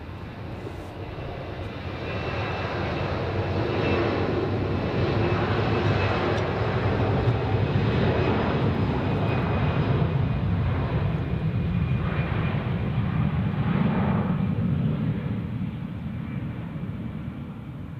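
A widebody airliner, an Edelweiss A340 or Swiss 777, passes at Zurich airport. Its engines roar as a steady, loud broadband rumble for most of the clip, rising from quiet at the start and with no talk.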